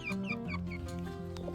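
Young Carijó chickens, naked-neck half-grown birds nearly adult, cluck and chirp in quick, close, clear bursts with a steady farmyard hum beneath.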